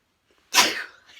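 A single sharp sneeze bursts out close to the microphone during a home craft update, its breathy tail fading over the rest of the moment.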